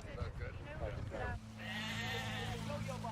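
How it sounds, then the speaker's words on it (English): Sheep bleat in an open field setting, a wavering, harmonic call rising after a stretch of talk, with a steady low hum running underneath. "There are sheep"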